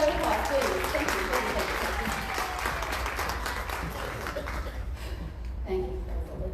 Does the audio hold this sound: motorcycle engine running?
no